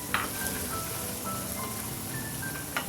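Minced meat frying with peas and chopped green chili in a pan, a steady low sizzle throughout with a couple of faint scrapes near the start and end, quiet and close.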